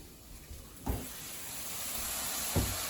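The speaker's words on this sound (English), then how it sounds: "Nice and sizzling." Food sizzles in a pan with a steady bright hiss that swells louder after a couple of soft clunks.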